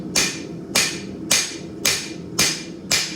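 Steady hammer blows ring on hot steel over an anvil while a knife is forged, six sharp metallic strikes at an even half-second rhythm, close and loud.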